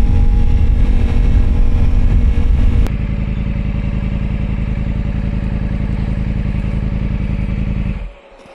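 A Harley-Davidson motorcycle engine runs loud and close, drops from a rough roar to a steady idle, then cuts off near the end, leaving quiet.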